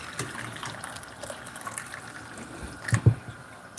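Hot water running from a kitchen tap while homemade hot sauce is being made, a soft steady trickle with a few splashy clunks near the end.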